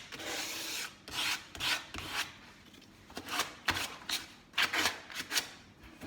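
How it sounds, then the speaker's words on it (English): A gesso-coated wooden furniture leg is hand-sanded in close, scratchy back-and-forth strokes that come in irregular bursts with short pauses. No voices are heard. "we're just gonna sand that off, get in the little pieces there"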